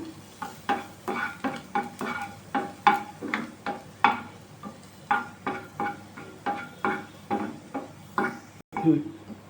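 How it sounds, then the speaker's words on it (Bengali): Two crushed garlic cloves fry in a pan for homemade Maggi noodles, with a steady run of about twenty rhythmic stirring scrapes over a continuous soft sizzle, close and fairly loud, with no talking. "ক্রাশ করা দুটো রসুন দিলাম রসুনটা একটু ভাজা ভাজা হবে"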